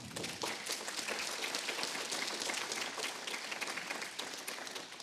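An audience at a talk on neurodiversity in the IT industry claps in sustained, dense applause, a steady crackling roar of many hands lasting the whole stretch.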